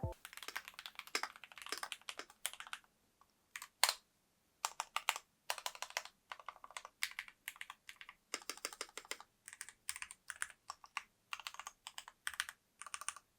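Typing on a keyboard fitted with PBT keycaps in a cherry profile: a close, clear stream of crisp clacky keystrokes in bursts with short pauses, no talking.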